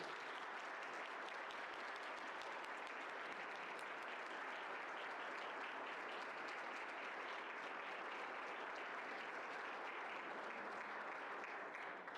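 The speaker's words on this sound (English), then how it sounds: "one last round of applause" Audience at a public health talk applauding, a dense, sustained clapping that stays even and fairly distant throughout.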